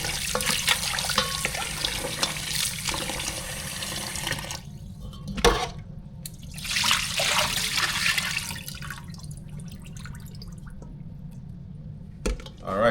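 Running tap water rinses raw lamb chops with vinegar in a sink, a steady splashing flow with a few brief sharper splashes and drips, fairly close.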